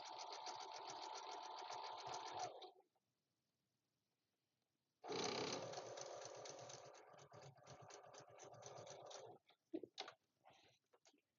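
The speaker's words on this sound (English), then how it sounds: "my machine does 3 stitches" A home sewing machine stitches in two sustained runs separated by a silent pause, with a steady close whir, then a few short stop-start bursts at the end.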